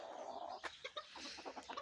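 İspenç and Denizli roosters and hens in a farmyard give a string of short clucks and soft calls, several birds close by with no talk.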